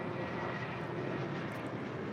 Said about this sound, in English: That's the A320 departing to Windsor Locks with JetBlue Airways, flight 1268 BDL.